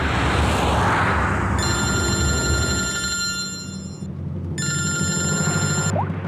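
Telephone bell rings in two clear bursts, the second shorter, over a steady background rumble with no talking.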